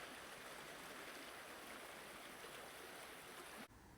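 River water rushes steadily past a dividing stone wall near the Oakamoor Tunnel entrance in Staffordshire, a constant broadband flow heard close, cutting off abruptly near the end.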